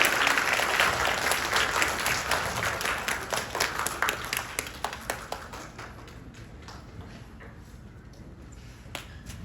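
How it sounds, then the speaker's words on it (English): A school audience applauds a class of first and third graders at an end-of-term pinning ceremony, a dense burst of clapping that thins out toward the end, with scattered individual claps. "Let's give this great class a round of applause."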